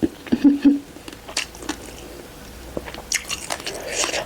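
Crisp, crunchy bites into crispy deep-fried Thai roast pork belly, heard as a few close crackling crunches followed by softer chewing.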